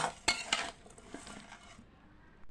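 Ground spices being stirred into a drumstick pickle, with a few sharp utensil clinks against the container followed by soft, fading mixing scrapes, close and fairly quiet.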